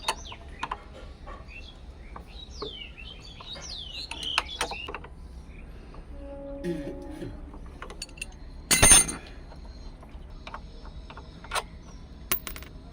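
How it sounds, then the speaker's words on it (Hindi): A 12 mm wrench or socket loosens two front disc brake caliper bolts on a Bajaj Discover 125 motorcycle, with faint metallic clinks and ratchet clicks, one sharper clatter, and birds chirping outdoors. "डिस्क कैलिवर खोलने के लिए हमें 12 नंबर का गोटी या पाना लेना पड़ेगा और इस 2 बोल्ट को खोलना पड़ेगा"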